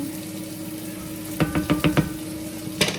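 A spoon stirs coconut-finished food frying in a pan, giving a quick run of four or five close clinks and scrapes over a steady sizzle, then one more scrape.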